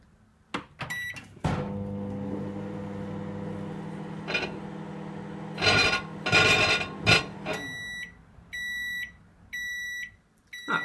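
A microwave oven hums as it runs while heating a grape into plasma, broken by crackling bursts, then a series of evenly spaced electronic beeps; no speech.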